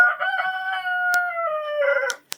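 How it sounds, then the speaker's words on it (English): Roosters crow nearby at a compost-pile feeding ring, one long clear cock-a-doodle-doo followed by the start of another, with a couple of sharp clicks in the background. "They didn't start crowing until I came out here."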